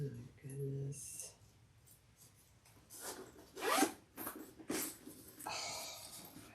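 A zipper is pulled on a handmade slouchy hobo bag, heard close up as several short rasping strokes, with a quiet voice and some rustling around them.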